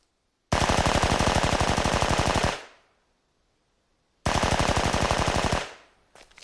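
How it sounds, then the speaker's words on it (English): Anime gunfire during shooting practice: two loud, rapid automatic bursts, each roughly two seconds of dense rattling shots that trail off, separated by silence, with a brief third burst starting at the end. "Now fire 10-second bursts."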